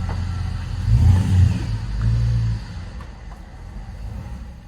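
A modified, supercharged Cadillac Escalade with a 6.0 engine, once flooded in a hurricane, revs and accelerates hard, its deep engine roar swelling loudly, then easing back to a lower rumble, with no talk.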